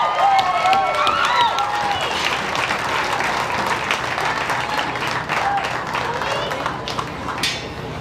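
A large crowd at a county fair livestock show cheers and applauds loudly and continuously for the champion senior showman award, with whoops rising over steady clapping throughout.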